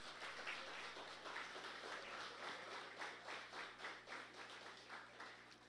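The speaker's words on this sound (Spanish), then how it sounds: "¿Cuántos pueden darle un aplauso al Rey de Reyes todavía?" A church congregation claps in a sustained round of applause, a dense even patter at moderate distance with no voices over it.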